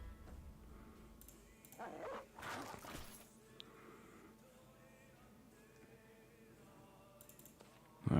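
Dogs in the video game Battle Brothers bark and whimper in short bursts amid game sound effects, with a louder flurry in the middle and a sharp hit at the end.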